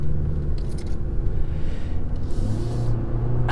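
Engine and drivetrain of a 2021 Toyota Venza hybrid rise under light throttle, a steady low rumble with a whirring tone that climbs near the end, heard from inside the cabin with no talk.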